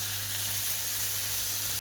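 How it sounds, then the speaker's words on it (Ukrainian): A steady, close sizzle of button mushrooms frying in a hot pan, an even crackling hiss that runs unbroken with no talking. "Перемішую, смажу ще хвилинку"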